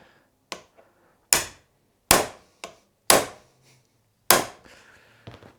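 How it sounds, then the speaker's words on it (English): Sharp hammer strikes on metal, about six separate blows spaced irregularly, each a loud crack with a brief ringing decay, no talking. "I'm going to grab the hammer and hit the top of this"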